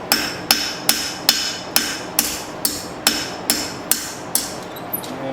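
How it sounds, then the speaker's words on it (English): A hammer rhythmically bounces its weight onto dark-heat steel while a file is forged into a knife: about a dozen sharp, ringing metallic strikes at a steady, even pace, close and loud, with no talking. "pretty much bouncing the weight of the hammer"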